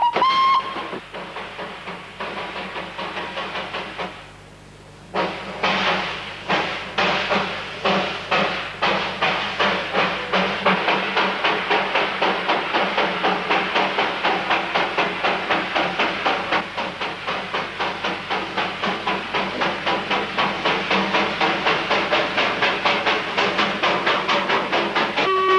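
Steam locomotive hauling carriages on a Himalayan mountain railway, working hard with a steady rapid chuffing beat of exhaust and hissing steam, loud and close throughout with a short dip before the rhythm resumes.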